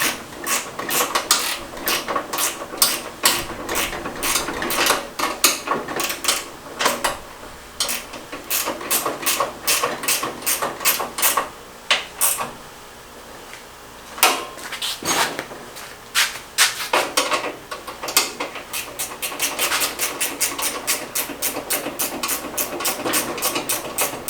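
A ratchet with sockets drives bolts while assembling a Harbor Freight four-drawer tool chest, with loud rapid clicking bursts that stop and start through the clip, close to the listener.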